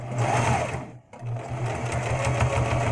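A sewing machine stitches soft, non-stiff fabric, its steady loud mechanical whir running close up with a brief pause midway before the stitching resumes.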